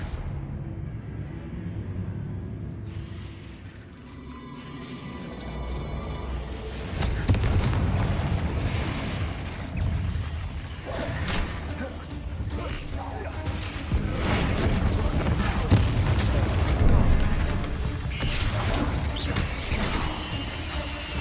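A Confringo fire spell in Hogwarts Legacy sets off rumbling blasts and crashing debris, loud and dense, building after a quieter opening and churning on with repeated booms and mechanical clatter.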